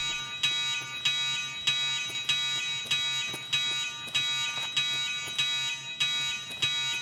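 In Escape from Tarkov on the Interchange map, an alarm howls without pause, loud and harsh, pulsing at a steady rhythm of about one cycle per half second, with no voices over it.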